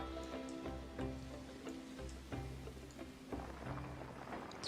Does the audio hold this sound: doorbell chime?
no